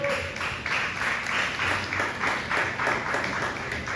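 A church congregation claps steadily for several seconds, a dense patter of many hands at moderate distance, with no talking.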